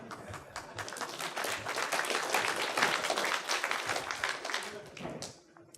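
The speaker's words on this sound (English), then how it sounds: "Applause are welcome." Audience applause at a CppCon 2017 C++ conference talk, a dense wash of many hands clapping that swells through the middle and fades near the end, with no speech over it.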